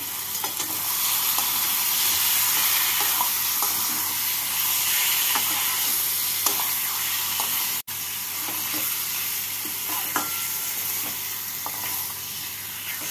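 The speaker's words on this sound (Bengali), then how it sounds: "মেটেগুলোকে দিয়ে মশলার সাথে 2 মিনিট মতো নাড়াচাড়া করে নিচ্ছি।" Pieces of mutton liver fry in masala in a pan with a steady hissing sizzle. A spatula scrapes and stirs at intervals, and one brief dropout cuts the sound.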